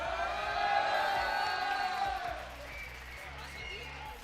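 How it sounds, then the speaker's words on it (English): At the Eurobot Junior robotics final, a crowd cheers and whoops loudly, then settles into a lower murmur, with an announcer's voice over the noise. "We're hearing the crowd getting louder and louder as we approach the grand final"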